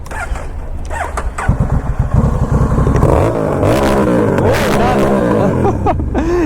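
A motorcycle engine sputters to life with rapid clattering pulses, then settles into a steady, loud idle with rising revs, heard up close.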